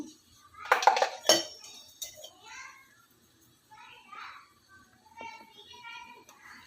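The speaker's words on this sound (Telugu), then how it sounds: "అల్లం వెల్లుల్లి పేస్ట్ మనకి మొత్తం కింద అంటుకోకుండా ఇలా కలుపుకోవాలి" A spoon clinks and scrapes sharply a few times against a cooking pot while ginger garlic paste is stirred for Telangana bagara rice, then quieter soft stirring continues under faint background voices.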